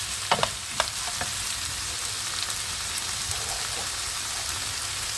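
Chopped mushrooms fry with onion in a pan, giving a steady close hiss of sizzling, with a few sharp clacks of a utensil near the start.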